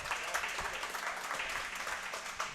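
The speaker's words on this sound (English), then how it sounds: "Let's give these gentlemen a nice round of applause." A small studio audience claps for high school football players who are guests on a coaches' podcast, giving a short, faint round of applause with no talk over it.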